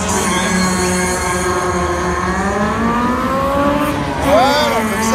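A Honda Integra rally car at a rally special stage, its engine revving as it pulls away with rising and falling pitch, loud and fairly close, with crowd noise and voices talking over it.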